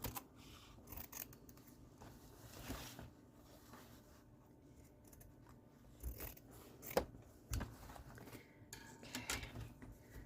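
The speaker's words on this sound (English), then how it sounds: "I'm going to cut it about that far away." Scissors cut material for an embroidery hoop mail organizer craft kit, giving a run of quiet, close snips and small handling clicks spread over several seconds against a faint room hush.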